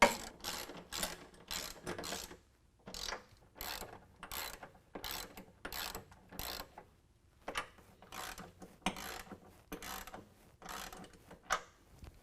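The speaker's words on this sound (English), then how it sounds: "at our rear bracket, we're going to tighten down our 3 nuts using our 13mm" A socket ratchet with a 13mm socket tightens three nuts on a rear nerf bar bracket of a 2019 Ram 1500, sounding as bursts of rapid clicking separated by brief pauses, close and fairly quiet.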